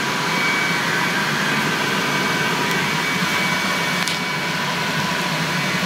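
The burner blower of an AO Smith Legend 2000 boiler runs with a loud, steady whooshing roar and a faint tonal hum, holding constant for several seconds.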